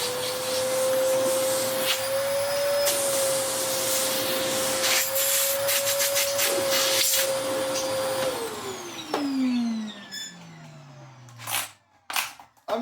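Restored Electrolux Mondo Z1190e vacuum cleaner running steadily with a strong motor whine and airflow from the hose, then switched off, its tone sliding down as it winds to a stop, followed by a few clunks.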